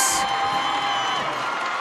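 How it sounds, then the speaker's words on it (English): Southeastern fans cheer at a Class 1A girls volleyball championship, a loud sustained crowd roar with shouting and whoops filling the gym. "cheering on their girls who are waiting for St. Thomas More to take the court"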